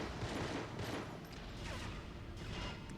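Rapid bursts of gunfire crackle over a dense, noisy backdrop of shots and explosions in the video game Agent Under Fire.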